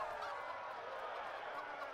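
Chickens cluck and squawk faintly in a chicken race in the video game Fable 3, a continuous low flurry of fowl calls without clear breaks.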